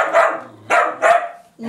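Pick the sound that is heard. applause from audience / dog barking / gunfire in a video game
dog barking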